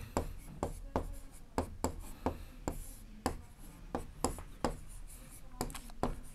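Chalk or marker strokes on a board while a maths problem about bowl prices is worked out, a steady series of short scratchy taps and rubs about every half second, fairly close and quiet.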